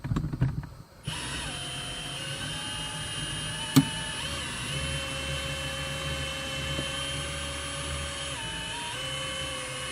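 A Lil Buddy Mongoose line-cutting tool, driven by a cordless drill, saws through windshield urethane on a 2008 Toyota Sienna. A steady, close mechanical whine runs the whole time, with shifting tones and a sharp click partway through.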